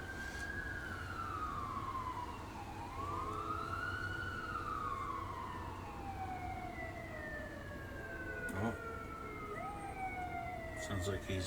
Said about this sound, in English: there's another emergency vehicle is about to go by.